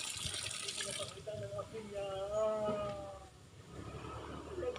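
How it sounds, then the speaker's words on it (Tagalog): Water runs from a household tap in a steady splashing hiss for the first second, then a voice comes in over the fading flow. "Patay mo na yung gripo at dami na yung tubig."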